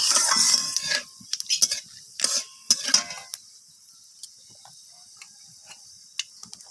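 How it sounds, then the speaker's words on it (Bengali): Bay leaf, dried chilli and panch phoron spices sputter in hot oil, a loud crackling sizzle for about a second, then scattered light utensil clicks and taps in a quiet kitchen. "তো এরপর আমি ফোড়নটাকে একটু ভাজা ভাজা করে নেব"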